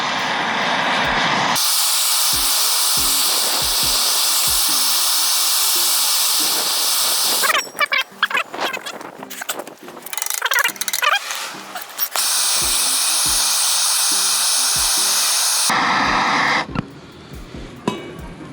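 A torch flame roars loudly and continuously while heating and burning out a rear knuckle bushing on a Lexus IS300, with a break midway filled with scraping and handling clatter, then the hissing roar resumes.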